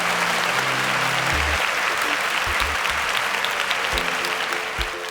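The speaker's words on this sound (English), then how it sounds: "Can we give them a resounding round of applause?" A studio audience at a televised business competition claps in a loud, continuous round of applause that fades slightly toward the end, with a few low thuds underneath.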